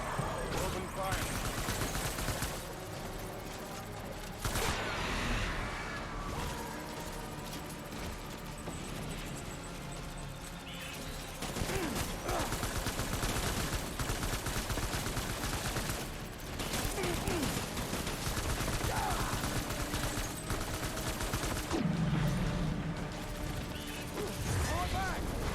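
Gunfire in the video game Death Stranding: sustained bursts of loud automatic fire and heavy impacts stretching across the whole stretch, mixed with shouted in-game voices and dense battle noise.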